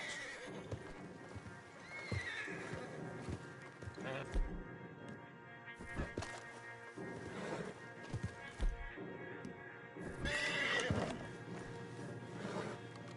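Horses clip-clop on hooves and neigh repeatedly in the video game Red Dead Redemption 2, with scattered thuds and a busy game soundscape around them.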